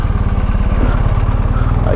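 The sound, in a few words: motorcycle engine running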